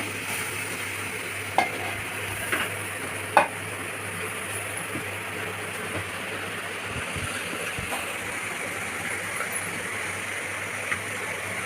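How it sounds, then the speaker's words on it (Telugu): Grated carrot frying in a pan for carrot halwa, a low steady sizzle close by with occasional spoon knocks and scrapes as it is stirred, no talking. "తురిమింది, అందులోనే వేసుకొని బాగా ఫ్రై చేసుకోవాలి"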